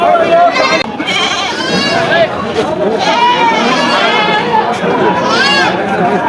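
Goats, a pair of castrated bucks, bleat at a livestock market after Eid, with several repeated cries heard amid steady crowd chatter and people talking nearby.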